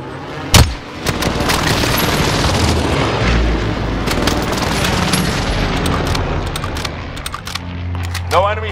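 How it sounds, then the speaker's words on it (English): Airstrike explosions and gunfire from Call of Duty: Warzone on Rebirth Island: a sharp boom opens, then dense rattling gunfire and bursts continue loud and near, with radio-style voice callouts over the top. "Bringing down an airstrike. This is Phoenix 3. Strike inbound."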